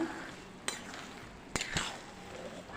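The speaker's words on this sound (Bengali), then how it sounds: "এবার দেখো আমি খুব ভালো করে কষিয়ে নেবো" Tamarind sautéed for tamarind pickle gives a soft, steady sizzle in a pan, broken by a few sharp clinks of a utensil scraping and stirring, heard close with no talking.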